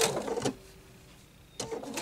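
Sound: sewing machine running fast

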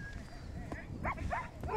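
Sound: sled dogs at feeding time

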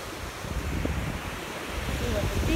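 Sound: ocean surf on Sanibel beach

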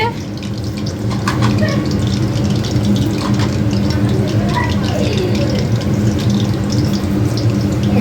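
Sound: water running while washing mutton

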